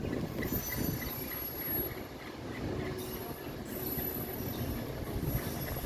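A passenger train rolls steadily through New Carrollton station, a continuous broad rumble of wheels and cars with a faint high squeal along the rails, heard from nearby at moderate level.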